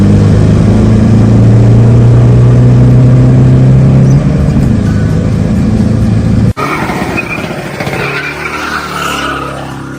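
Loud, modified Toyota Hilux Vigo pickup with a bored-out 3.0-litre engine and a restrictive exhaust, roaring at sustained high revs before the tone abruptly shifts to a rougher, fluctuating engine roar.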